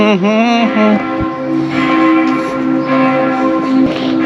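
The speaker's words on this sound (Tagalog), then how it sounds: "Tumutunog ng kampana." A church bell rings loudly and steadily, its long sustained tones overlapping and ringing out with a rich harmonic hum.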